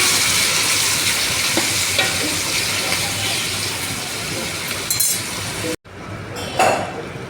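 Chopped tomatoes tossed into curry frying in a pan, a loud, steady sizzle with stirring scrapes and a clink, then a sudden drop to a quieter simmer with a brief spoon scrape near the end.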